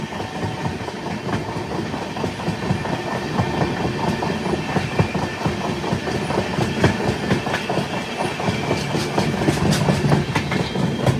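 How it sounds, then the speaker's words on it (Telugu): Pinakini Super Fast Express 12711, running from Vijayawada to Chennai Central, crossing from Andhra Pradesh into Tamil Nadu near Sullurupeta. A loud, steady rumble with continuous clickety-clack of the wagons over the rails runs the whole stretch. "ఆంధ్రప్రదేశ్ దాటి మన ట్రైన్ తమిళనాడులోకి అయితే ఎంటర్ అయ్యింది"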